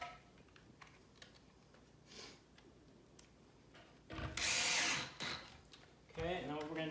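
A power drill drives pocket screws into a wooden farmhouse shoe bench in one loud, whirring burst about two-thirds through, followed by a shorter rising whir; quiet handling and soft clatter surround it.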